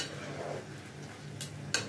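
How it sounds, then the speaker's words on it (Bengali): Chicken pieces for sweet and sour chicken frying in a pan, a soft steady sizzle with utensil scrapes and two sharp metal clinks near the end. "চিকেনটা নাড়তে নাড়তে বেশ একটু ভাজা ভাজা হয়ে যাবে"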